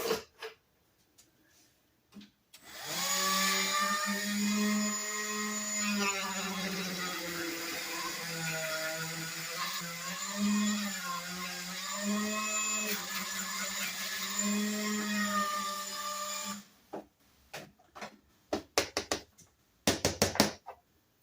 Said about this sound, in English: hook up a couple of maybe little sanding drums and a reamer out of my Dremel and make the hole bigger that way